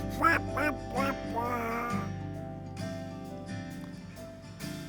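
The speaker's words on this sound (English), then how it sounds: "The mallard duck," A mallard duck gives a few loud nasal quacks in quick succession, then they fade under a sustained musical background.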